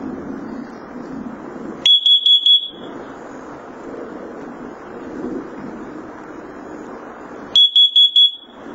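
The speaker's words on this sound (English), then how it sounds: "And the 2 pair of 4 beeps." A First Alert carbon monoxide detector under test sounds two bursts of four rapid, loud, piercing beeps each, separated by several seconds of low room noise.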